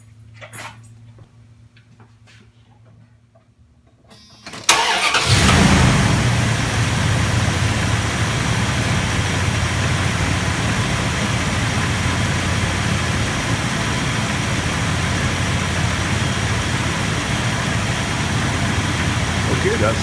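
A car engine, hooked up to a Topdon Tornado 4-amp battery charger, is cranked a few seconds, then catches and starts strongly, settling into a loud steady idle that runs on unbroken to the end.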